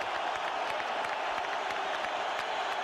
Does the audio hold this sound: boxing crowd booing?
yes